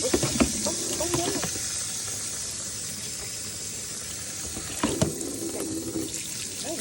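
A tap runs steadily into a sink while food is rinsed under it, with a continuous close hiss of water, a few clatters of handling at the start and near the end, and someone talking quietly over it.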